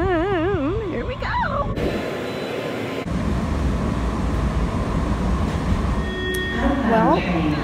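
A rumbling train rolls in with a steady, dense roar and clatter, preceded by warbling electronic tones and a chime, loud and close.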